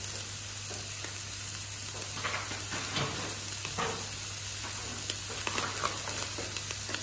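Minced meat frying in a pan over softened onion, a steady close sizzle with faint scraping now and then, no voices, a constant low hum underneath.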